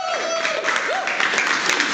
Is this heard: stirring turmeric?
no